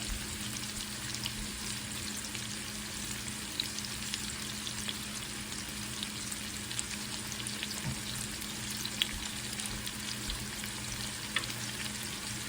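Onions sauté in a pan with a steady, moderate frying sizzle, crackling evenly without a break and with occasional faint utensil taps, and no one speaking.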